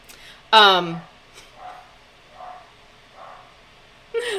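Dogs bark at neighbors outside a home: one close, sharp yelping bark, then several fainter, more distant barks spaced about a second apart, with a voice starting up at the end.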